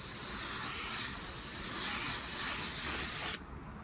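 A paint spray gun lays black base coat over sealer on a car body, producing a loud, steady close-up hiss that cuts off abruptly just before the end.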